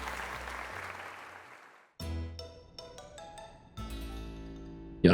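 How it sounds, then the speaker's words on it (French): Crowd applause from the video game Pokémon Legends Z-A fades out over two seconds. Bright chiming jingle notes follow in bursts. "Allez tout le monde, applaudissons-le comme il se faut."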